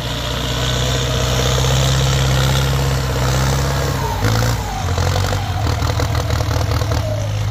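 Massey Ferguson tractor, a 5000 turbo or 6640, pushing soil in gear: a loud, steady low diesel drone close by, with a pitch shift midway as the load changes and continuous mechanical vibration throughout.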